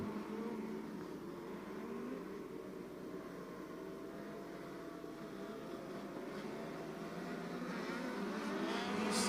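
Micro sprint race cars roaring around a dirt speedway during a 600 micro feature at Clyde Martin Memorial Speedway, with a steady, distant engine drone that builds slightly toward the end.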